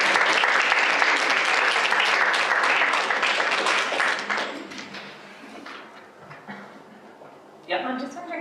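An audience applauds after a talk on a clinical psychologist's working life, dense clapping for several seconds that tapers off, then a voice begins speaking at the end.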